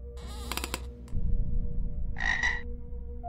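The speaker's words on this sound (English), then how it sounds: "It's a frog, or toad" A fat green frog or toad croaking from inside a toilet bowl, a loud low pulsing croak up close, followed by a brief brighter call, with no talking.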